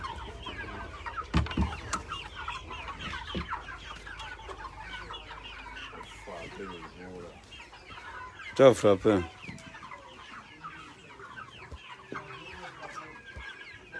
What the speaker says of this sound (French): Les poulets, s'ils sont bêtes, c'est pas possible.